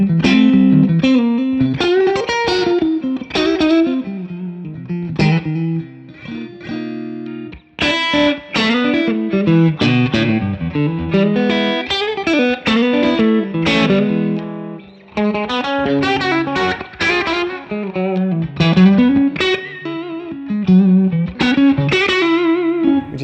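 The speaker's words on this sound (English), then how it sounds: "this is the straight sound, single channel amp, just straight into the amp effectively" Fender Custom Shop Stratocaster electric guitar played through a single-channel amp with no effects, a clean-to-lightly-driven tone with strummed chords and melodic runs, loud and close, alone without talk.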